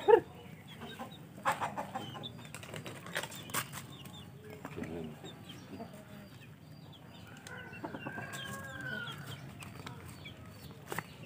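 Chickens cluck and murmur softly at a distance, with occasional rustling and faint background noise.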